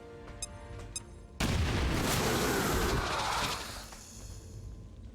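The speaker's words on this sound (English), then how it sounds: "Tossing frag." A frag grenade detonates in the XCOM Chimera Squad video game, a sudden loud, broad blast after a few soft clicks, with a roaring rumble that sustains for about two seconds before fading into low background noise.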